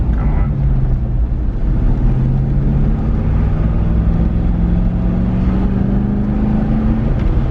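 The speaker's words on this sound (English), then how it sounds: "this is the noise of the windows down" Wind buffets a moving Corvette with the windows down at light throttle, a loud continuous rushing roar over a low engine drone, steady for several seconds with no talking.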